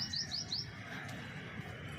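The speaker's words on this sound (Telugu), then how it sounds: "పిచ్చుకలు చూడండి, రంగులు రంగులు పిచ్చుకలు వచ్చి అరుస్తుంటాయి." Sparrows in a home garden give a quick run of four bright, high chirps in a row, faint and close, over a soft background hum.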